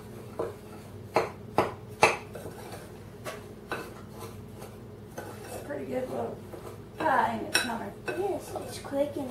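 Cheesecake crust ingredients with brown sugar are mixed in a bowl, with a run of sharp clinks and scrapes of a utensil against the bowl, then softer rubbing, all close and moderately quiet.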